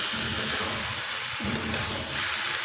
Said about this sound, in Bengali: চিংড়িগুলো দিয়ে দিচ্ছি। চিংড়ি দিয়ে এটা আবার কষবো।